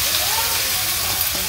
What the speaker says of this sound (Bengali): পেঁয়াজটা ভাজা ভাজা হয়ে গেছে মাংসটা দিয়ে দেই